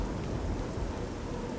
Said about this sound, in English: I'm hearing rain, but I'm not seeing rain.